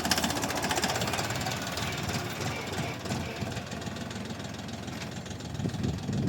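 A DTZ 354U tractor pulls a disc harrow across a garden plot, its diesel engine knocking in a steady, loud, close rhythmic clatter that never pauses, with no voices.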